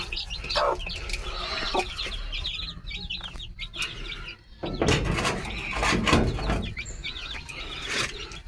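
Young chicks peep and cluck repeatedly in high, rapid chirps close by, with occasional rustling and knocking sounds around them.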